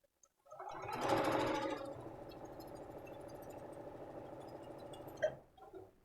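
A domestic sewing machine stitches through a thick quilt block, starting up loud and then running as a steady close whir for about four seconds before stopping with a brief clunk.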